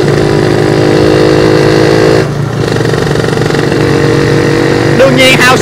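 A two-stroke motorcycle engine runs loud and close with a steady buzzing drone, dipping briefly partway through before resuming and rising at the end.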